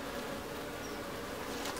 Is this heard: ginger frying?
no